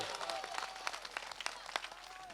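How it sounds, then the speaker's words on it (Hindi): An audience at a Hindi poetry recital claps in applause, a close, dense patter with sharp individual claps standing out over a murmuring crowd. "तालियां आनी चाहिए।"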